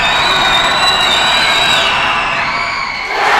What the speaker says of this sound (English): Rowdy crowd here from Linn-Mar.